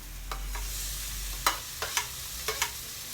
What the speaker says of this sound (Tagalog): Normal na pagigisa lang.